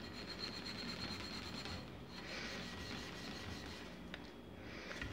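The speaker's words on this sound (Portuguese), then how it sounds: "Você tem que esfregar bem" Steady scrubbing and rasping on a Dako Supreme stove burner cap, a quiet continuous rubbing close by with no voices.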